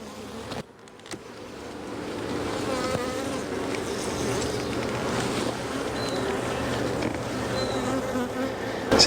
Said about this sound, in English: in this hive and plenty of bees